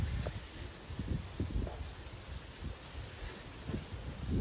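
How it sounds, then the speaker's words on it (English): Wind blows outdoors beside a garden pond on a cold fall day, a low, gusty rumble that buffets the microphone in soft irregular pulses. "It's getting cold and it's windy."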